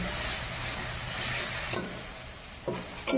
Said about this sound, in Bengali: দেখুন মশলাগুলো কষিয়ে নিয়েছি।